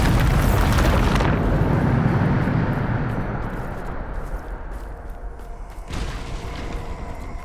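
A Bombarda spell explosion in Hogwarts Legacy: a loud, deep blast at the start that rumbles and slowly fades over several seconds, followed by a second smaller burst near the end.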